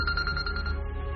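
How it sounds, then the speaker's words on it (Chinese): A mobile phone rings with a short, repeating electronic ringtone pulse, clear and close, with no other sound. "当时手机响"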